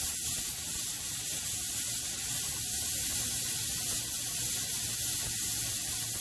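Steam vents from a pressure canner processing green beans, giving a steady, loud, continuous hiss that holds unchanged throughout with no voices.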